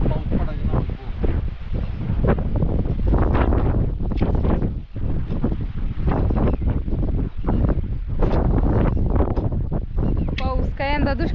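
Strong wind blows hard against the microphone in an outdoor rural setting, loud buffeting gusts roaring almost continuously, with people talking underneath.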